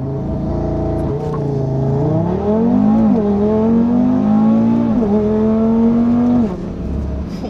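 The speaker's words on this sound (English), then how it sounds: "When I launched the car, it's actually quite a lot of fun because it just feels so violent." A modified Audi RS3 launches and accelerates hard, its engine loud and close with a steady rising drone, pitch climbing through several gear changes over about seven seconds.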